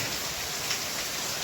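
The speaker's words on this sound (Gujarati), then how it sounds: "વરસાદ છે" Steady rain falls on a farm in Gujarat, a dense, even hiss pattering on surfaces, close and continuous with no voices.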